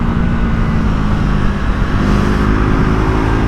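Triumph Tracker 400 motorcycle pulling hard under acceleration, a steady loud engine drone with wind rush throughout, heard from the rider's position with no talk.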